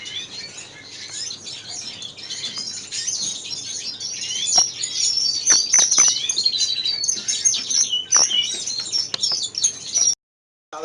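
Greenfinches in breeding cages chirp and twitter continuously, with bright repeated calls and sharp clicks of movement close by, and no talking.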